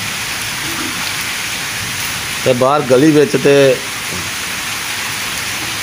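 Heavy rain pours in a Punjab village in Pakistan, a dense, even hiss of drops on surfaces throughout, while someone talks briefly in the middle.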